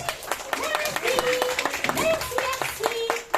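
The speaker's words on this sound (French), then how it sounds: "Bravo, petite souris! Bravo! On peut l'applaudir bien fort!" Scattered audience clapping at a children's stage show, individual sharp claps heard beneath lively character voices speaking and exclaiming over them throughout.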